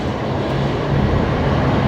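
A Qantas Boeing 737 airliner departing Brisbane Airport gives off a loud, steady, broadband jet roar that fills the short stretch without a break.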